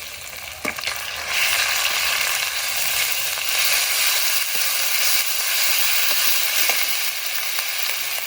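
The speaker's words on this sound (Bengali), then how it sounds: "পেঁয়াজ ও কাঁচামরিচ কিছুক্ষণ ভেজে নিয়েছি এবারে দিয়ে দেবো পেঁয়াজ বাটা রসুন বাটা ও আদা বাটা" Onion, green chili and pastes of onion, garlic and ginger sizzle steadily in a frying pan, a continuous loud close hiss with a few faint stirring touches.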